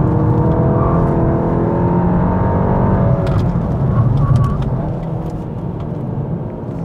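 A Volkswagen Golf R with a turbocharged engine accelerates hard, a loud steady roar with a rising whir that eases off slightly toward the end.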